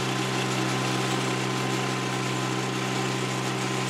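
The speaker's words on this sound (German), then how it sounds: "So, jetzt holen wir Johnny raus und mähen direkt eine Bahn daneben." John Deere lawn mower engine running while it cuts a strip of grass, a steady loud droning hum with a constant buzzing tone, close by and unbroken for several seconds with no talk.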